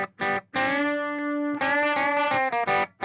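Electric guitar run through processing with the in-phase plugin bypassed, giving a thin tone; several short strummed chords and one longer sustained chord, close and loud, with no talking.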